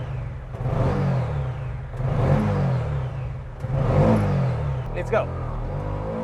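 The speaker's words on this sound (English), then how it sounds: "Let's see how fast it can go through the gears on this sequential gearbox." A four-wheeled motorbike, built like a tuk-tuk with an extra wheel, accelerates through its sequential gearbox: the engine revs rise three times, each followed by a drop at a gear change. The engine is loud and close, and a voice speaks briefly near the end.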